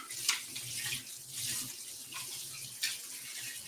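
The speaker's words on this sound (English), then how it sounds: "Let me go wash my hands real quick because I touched that sausage" Steady stream from a sink faucet splashing as hands are washed in a home kitchen, close and moderately quiet, with faint clatter underneath and no talking.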